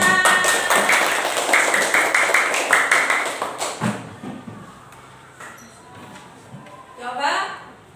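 Schoolchildren in an elementary classroom clap together in a busy, rhythmic burst of many hands that fades out after about four seconds, leaving soft classroom shuffles and a brief voice near the end.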